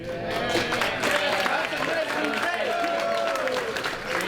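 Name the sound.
audience applause at awards dinner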